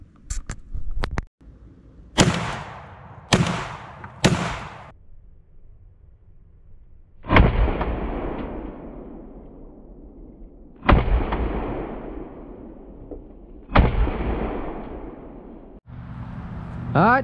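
Browning A5 shotgun fires seven loud, sharp shots outdoors: a quick group of four, then three more spaced a few seconds apart, each blast trailing off in a long rolling echo.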